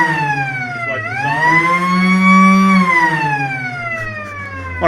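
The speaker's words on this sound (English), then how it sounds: "One of the great sirens." A loud, close wailing siren sounds at a football ground during a Perth Football League reserves grand final, rising, holding a long steady tone, then falling away over several seconds.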